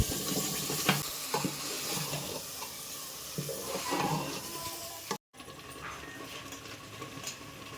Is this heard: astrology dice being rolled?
no